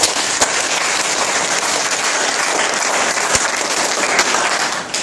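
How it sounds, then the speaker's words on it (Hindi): A large audience at a convention clapping hands: loud, steady, dense applause sustained throughout with no break, close and filling the space. "All of you, hands up, Tali बजाइए।"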